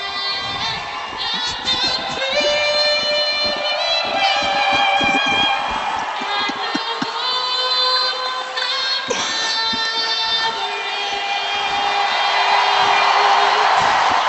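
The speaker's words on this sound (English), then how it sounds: "Response from the crowd here at HSBC Arena for the singing of the Canadian and U.S. anthems" A large arena crowd at a National Lacrosse League game in Buffalo's HSBC Arena cheers and whoops loudly after the Canadian and U.S. anthems, a sustained roar that swells toward the end.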